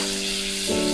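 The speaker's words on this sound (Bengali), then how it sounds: "পটলগুলো ভাজা হয়ে গেছে, ওর মধ্যে আলুগুলো দিয়ে একটু ভেজে নেবেন।" Pointed gourd and potato pieces frying in hot oil with turmeric and salt, a steady close sizzle with a faint ringing tone running underneath.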